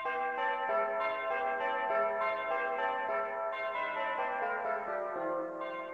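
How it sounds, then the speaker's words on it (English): Bright bell-like chime tones from the chimes preset on an electronic organ play a slow, descending melody of overlapping ringing notes, moderately quiet and alone. "the chimes"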